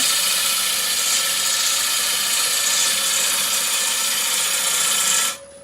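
A wood lathe skew makes a push cut along the rim of a pestle-and-mortar bowl, giving a steady hissing, rushing scrape of the tool on spinning wood. It stays constant for several seconds, then cuts off abruptly.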